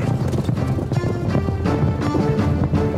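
Horses passing at a trot, with steady clip-clopping hooves over a dense, busy background and no speech.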